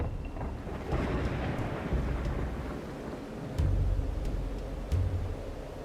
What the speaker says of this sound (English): Ooh, that's a pretty storm